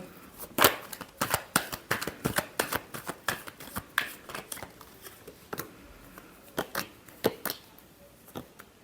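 Tarot cards being shuffled by hand, a rapid run of crisp riffling snaps in quick bursts, close and clear with no talking.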